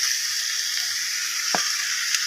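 Ridge gourd sautéing in a pan over a medium flame for chutney, a steady close sizzle and hiss throughout, with one brief clink of a utensil midway.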